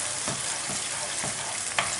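Tomato sofrito fries in a pan for a Valencian baked rice, a dense steady sizzle close by with a few soft stirring scrapes and no talking.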